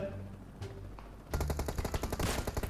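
Rapid bursts of automatic gunfire from a PUBG Mobile battle, sudden and loud, crackling in dense repeated volleys after a quieter stretch of game ambience.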